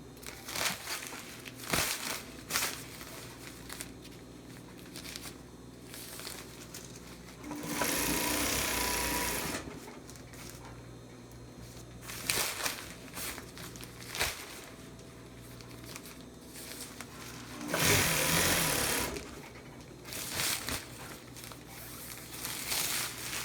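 Big industrial power sewing machine stitching a 5x8 tarp, its motor whirring in steady bursts with pauses between, while the stiff tarp material crinkles and rustles up close as it is guided through; no talking.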